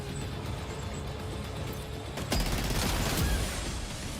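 Gunfire erupts in the video game Death Stranding 2. A quieter mechanical rumble gives way to a loud, sudden burst of rapid shots, followed by more sharp reports over a heavy low-end roar.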